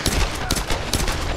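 Rapid gunfire in Tomb Raider, a quick burst of closely spaced shots, loud and near, with no talking.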